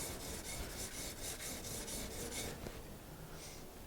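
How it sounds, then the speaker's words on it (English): A steel blade is drawn back and forth across a sharpening stone in steady, rhythmic rasping strokes, close and fairly loud, with no voices. "just evenly go back and forward, and I move each side of the stone"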